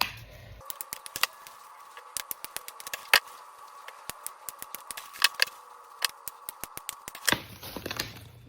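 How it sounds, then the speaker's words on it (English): Scissors snipping flower stems for an orchid arrangement, a quick irregular run of sharp close cuts over a faint steady hum, no voices. "So I'm going to go ahead and snip all these down to, I want about 1 inch below."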